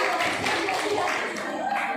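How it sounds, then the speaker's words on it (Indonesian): A group at a personal development and beauty class training session claps briefly and moderately, with scattered hand claps under a talking voice. "Oke, berikan tepuk tangan."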